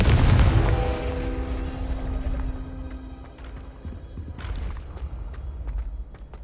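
A Confringo fire-blast spell in the Hogwarts Legacy video game opens with a heavy booming burst. Its rumble and a ringing tone decay over a few seconds, then a second, lighter crackling burst follows near the end, loud and without talk.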